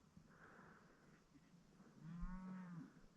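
Beefmaster beef cattle with some crossbred animals, kept outdoors, low mooing from one animal at moderate distance, a single drawn-out call near the end over quiet background noise and faint earlier lowing.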